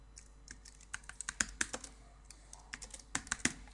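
Keys on a computer keyboard are tapped in short irregular bursts, with quiet pauses between clusters of sharp clicks, close and fairly soft, with no voices.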